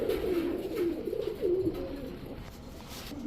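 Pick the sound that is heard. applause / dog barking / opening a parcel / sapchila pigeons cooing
sapchila pigeons cooing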